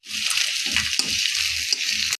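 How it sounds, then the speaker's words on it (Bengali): Fish head frying in hot oil with nigella (onion) seeds, salt, turmeric and chili, a steady close sizzle with a few stirring scrapes throughout, no voices. "মিষ্টি দিয়েছি, লবণ হলুদ আর লঙ্কা দিয়ে সুন্দর করে ভেজে নেবো।"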